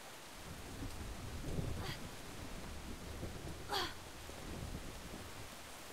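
Rain and thunder in the video game Brothers: A Tale of Two Sons, a soft steady rain hiss with low rolling rumbles and a sharper crack of thunder midway.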